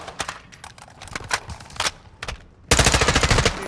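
Machine gun fire in the video game Call of Duty: Modern Warfare II. Scattered single shots come first, then a dense, loud burst of rapid automatic fire near the end.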